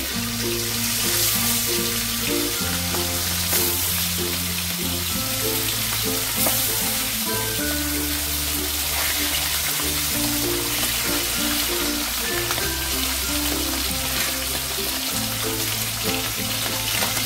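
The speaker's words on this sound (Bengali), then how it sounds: "এবার এই তেলের মধ্যে মাছগুলোকে আমি একদম হালকা করে ভেজে নেব।" Hilsa fish pieces fry in hot oil with a steady, dense sizzle throughout, heard alongside continuous background music.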